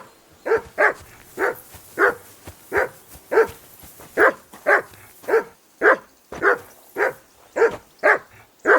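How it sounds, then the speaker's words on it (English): A dog barks over and over in the medieval world of Kingdom Come: Deliverance II, each bark sharp and close, coming in an even, persistent rhythm of about two per second with nothing else heard. "That barking was a pain in the ass."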